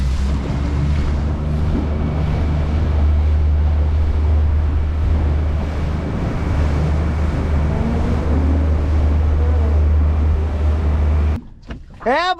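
Boat running down a river in strong wind around 20 knots near Perth: continuous loud engine roar mixed with wind buffeting and splashing water, ending abruptly with a brief voice.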